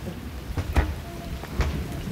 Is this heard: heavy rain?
yes